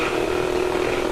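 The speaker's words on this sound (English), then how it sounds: "The sound you hear is the pulse of the spark gap." A spark gap in an atmospheric electricity collector built with graphene and graphite discharges as a steady, dense buzzing crackle that is loud, close and continuous for the whole moment, with no speech.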